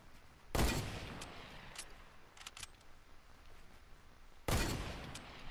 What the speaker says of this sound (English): Giving him lots of warning shots.